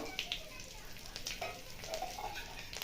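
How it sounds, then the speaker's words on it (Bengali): Whole cumin, bay leaf, dried chilli and green cardamom crackle and sizzle in hot oil, with a steady close hiss and scattered small pops running throughout. "ওই তেলেই দিয়ে দেবো জিরে, তেজপাতা, শুকনো লঙ্কা, ছোটো এলাচকে ফাটিয়ে দিয়ে দেবো"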